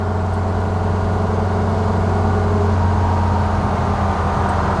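A fully restored 1935 Horch 830 BK vintage car cruises on the autobahn, its engine holding a steady low hum with a constant tonal drone, heard from inside at even, fairly loud level, no voices.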